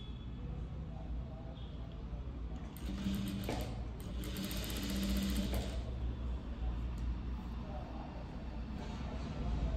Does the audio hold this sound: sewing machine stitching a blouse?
yes